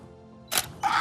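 A camera's shutter button is pressed, giving two quick, crisp mechanical clicks close to the microphone, each burst short and sharp, with a faint voice and room tone before them.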